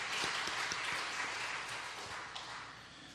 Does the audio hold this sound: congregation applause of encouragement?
yes